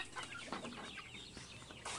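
Chickens cluck softly nearby in short, irregular bursts, with a faint outdoor ambience underneath.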